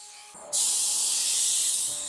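An aerosol can of MARBLACK smoke paint sprays a Suzuki Lapin SS tail lamp: a brief quiet pause, then a loud, steady, close-up hiss that holds for about a second and a half.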